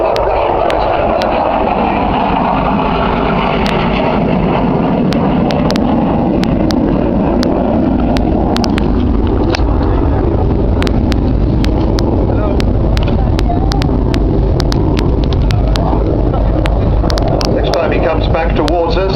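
An F-16 fighter jet roars through an aerobatic flying display at Cosford, a loud, sustained engine rumble with swelling broadband noise and wind buffeting, heard under a commentator's continuous talk.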